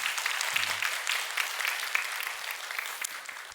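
Congregation applauding in a church during an early-morning service, a steady wash of many hands clapping at moderate volume, with a brief low thump near the start.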